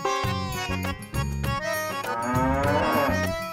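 A buffalo gives a loud, drawn-out moo layered over a steady rhythmic music bed in a comedy TV show scene.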